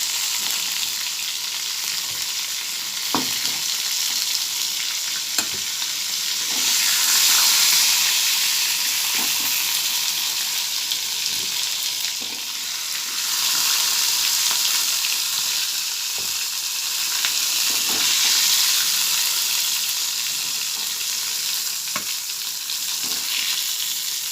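Stuffed pointed gourd filled with prawns fries in hot oil, giving a steady, close sizzle with soft crackles and occasional stirring taps, and no voices over it.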